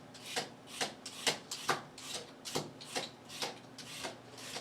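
A sharp julienne peeler scraping along carrots or potatoes in a home kitchen, with about a dozen quick rasping strokes in a fairly regular rhythm, close and moderately quiet.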